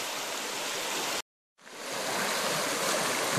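Cold mountain stream in the Carpathian Mountains, a loud, steady broadband rush of flowing water, briefly cut to silence before resuming just as strongly.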